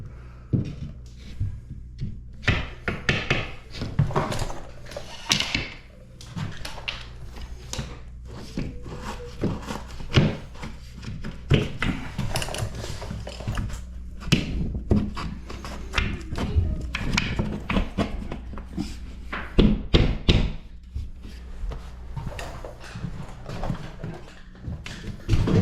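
Wooden casing trim for a spare bedroom renovation being fitted and tapped into place, a long run of dull knocks and thuds with irregular rhythm, close and fairly loud, with handling noise between blows.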